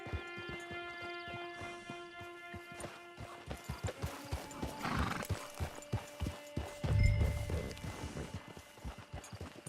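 A horse gallops in Red Dead Online, hooves pounding in a quick rhythmic beat at close range, with a brief snort or whinny partway through and low ambient game sound beneath.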